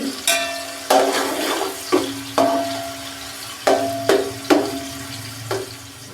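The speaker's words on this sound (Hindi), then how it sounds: "प्याज को हम अच्छे से फ्राई कर लेंगे" Onions sizzle and crackle steadily in a hot pan, with several sharp scraping or stirring clanks recurring every second or so.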